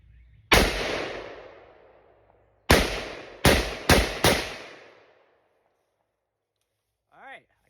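Five sharp rifle shots from a Palmetto State Armory rifle priced under $500, fitted with a PSA bolt carrier group, fired outdoors: one report, a pause, then four in quick succession, each with a ringing decay, and a short chirp at the end.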